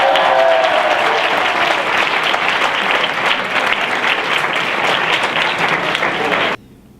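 A large crowd at a diocesan gathering in Luçon claps loudly and continuously, a dense wash of applause that holds for about six seconds and then cuts off abruptly.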